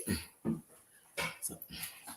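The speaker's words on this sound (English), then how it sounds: "Is this dog about to try to climb all the way in my lap?" A dog whimpering and snuffling close by, with several short soft whines and breathy yips spread across a couple of seconds in a quiet room.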